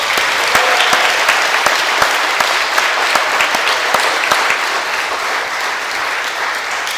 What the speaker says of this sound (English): let's hear it for all of the speakers for an excellent debate